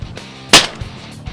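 A single sharp gunshot cracks out during a bird hunt near New Orleans, loud and close, standing alone over quiet outdoor background with faint knocks after it.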